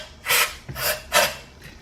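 Three firm rubbing strokes of a cloth with parts cleaner wiping out a KTM motorcycle wheel's bearing seat, close and fairly loud, with short pauses between strokes.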